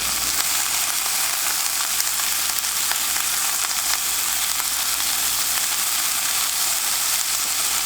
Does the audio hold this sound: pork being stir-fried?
yes